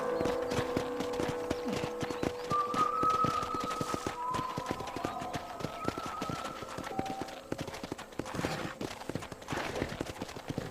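A horse galloping in the video game Red Dead Redemption 2, a fast, continuous rhythm of hoofbeats with light music tones and ambient sound underneath.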